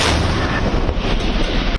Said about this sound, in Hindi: जहां ये तोप कैसे दुश्मन के इरादों पर गोले बरसा सकती है, इसका ट्रेलर एक बार फिर देख लीजिए